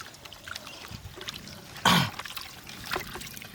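A short trickle of water poured for washing splashes close by, with quieter dribbling and faint background noise around it.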